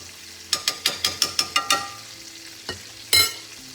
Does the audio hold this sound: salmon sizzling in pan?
yes